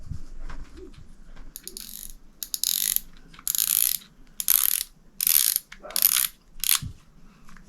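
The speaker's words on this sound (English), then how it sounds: "Now you can hear that get past the click washer inside, and once it does, it should freely spin off." Turning the star drag on a Silver Max fishing reel gives a run of rapid, close ratcheting click bursts as it passes the click washer inside, in repeated short spurts separated by brief pauses.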